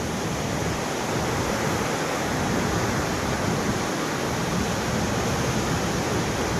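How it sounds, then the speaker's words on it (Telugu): Continuous broadband rushing of the Saraswati river falling as a waterfall below a hill in Uttarakhand, steady and loud without a break, heard fairly close. "సరస్వతి నది అక్కడ కొండ కిందగా పడుతుంది"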